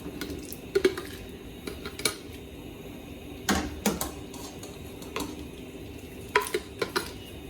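Chiles and tomatillos go into a pan already holding garlic and cilantro for salsa verde, producing scattered close clacks, clinks and scrapes of utensils against cookware with brief pauses between, and no one speaking.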